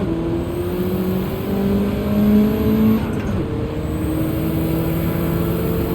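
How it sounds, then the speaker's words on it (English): Race cars roaring around a wet Fuji Speedway circuit in Gran Turismo 7, a steady engine drone with rising and falling revs as the player's car overtakes others, loud and continuous throughout. "I'm just sailing past these cars"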